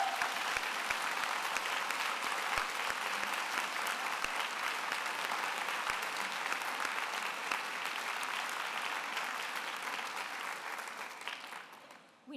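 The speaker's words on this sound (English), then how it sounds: "let's give your supporters a big round of applause" An audience at a university degree ceremony in Glasgow claps steadily, a dense, sustained round of applause that fills the hall and fades slightly toward the end.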